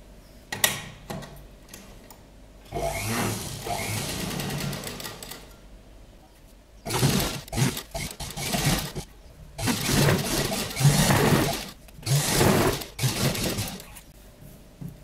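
A sewing machine stitches the panels of a sleeveless kurta with an attached front jacket in several bursts of fast, whirring mechanical rattle, close and steady, separated by quiet pauses.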